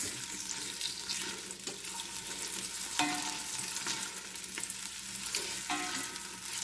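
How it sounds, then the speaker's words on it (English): Onions sizzle and crackle steadily in a hot pan, with occasional stirring scrapes, close and moderately loud. "onions roasting in the pan already"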